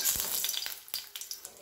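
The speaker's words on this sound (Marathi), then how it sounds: "भांड्यामध्ये थोडंसं तेल टाकायचं। सुक्या खोबऱ्याचे काप घेतलेले आहेत।" Dried coconut slices frying in oil in a pot, giving a steady close sizzle with a few short crackling pops, heard alone.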